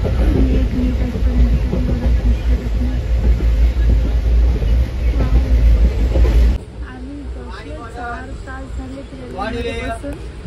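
Steady low rumble of a moving night train to Mumbai fills the first part, then drops to a quieter hum with faint voices and chatter over it.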